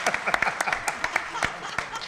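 Scattered audience clapping breaks out at a bartending seminar, individual claps popping irregularly and not fully in sync, with a voice talking over part of it.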